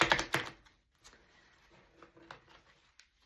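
Quiet papery riffling of playing cards, a louder burst at the start and then soft scattered flicks and taps with no talking.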